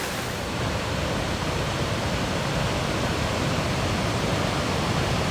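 A river flows near Khlong Phlu waterfall in the jungle of Koh Chang, Thailand, a loud, dense and unbroken rush of water filling the whole clip with no voices.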